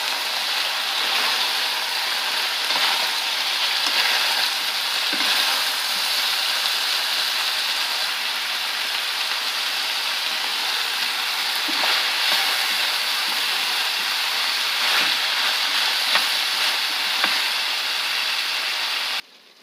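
Pork bulgogi with leeks and paprika sizzling in a pan, a continuous close hiss and crackle of frying holding steady throughout, with faint clicks of stirring.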